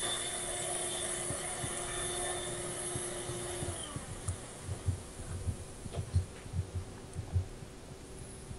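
Heartbeat sound from the heartbeat mode of the video game Soul Hunt, a low, soft thumping pulse that grows in the second half, beating steadily over a constant game hum with no talk.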